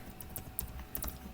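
Quick, light keystrokes on a computer keyboard, a few soft clicks in irregular rhythm, heard faintly and close up in a quiet room.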